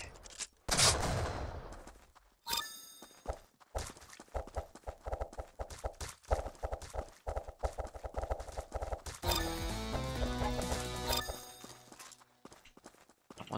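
Video game gunfire with a weapon aimed at headshots, sounding as rapid bursts of sharp shots and clattering impacts that repeat through the clip, alongside hoof-like clopping and a dense rattling stretch toward the end.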